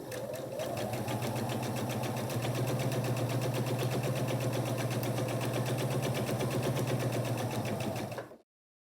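A sewing machine hums steadily and close while chain-feeding quilt strip sets with a quarter-inch seam for a miniature wall hanging, its motor running evenly for several seconds before cutting off abruptly.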